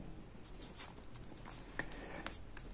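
Marker or chalk scratching and tapping on a board during a maths lesson on complex-number quadratic equations, with faint, intermittent strokes and small clicks over a quiet room.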